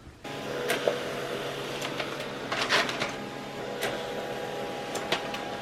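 A printer runs off half-sheet shipping labels for small-business orders, a close, steady mechanical whir with periodic clicks and brief feed bursts, without talk.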